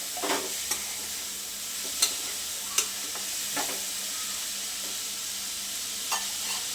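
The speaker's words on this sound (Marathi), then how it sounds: "कांदा हळद आणि सोबत परतून घ्यायचे" Onion and turmeric sauté with moth beans in a pan for a spicy curry: a soft continuous sizzle punctuated by several sharp spatula scrapes and taps at irregular intervals, with no talking.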